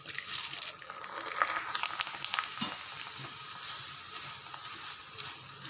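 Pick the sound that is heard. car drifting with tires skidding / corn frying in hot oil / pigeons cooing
corn frying in hot oil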